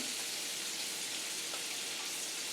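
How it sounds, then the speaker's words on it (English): Pumpkin frying in a pan with cream, butter and garlic for curry pumpkin linguine, a steady, even sizzle that holds at a moderate level throughout without talk. "Now I'm going to add this pumpkin"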